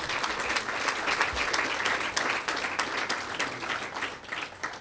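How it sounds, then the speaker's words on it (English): Audience applause at a veterans cemetery grand opening ceremony, a dense, sustained round of clapping from a sizable crowd that continues steadily throughout. "Give them a big round of applause."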